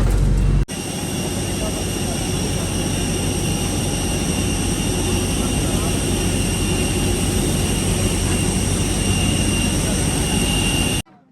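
Aboard a full passenger airplane after boarding, the cabin fills with a loud, steady broadband hum of engines and air systems that holds evenly throughout.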